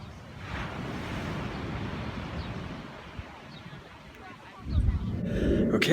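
Ocean surf rolls onto a beach in a steady wash, with wind buffeting the microphone; a louder, closer surge near the end.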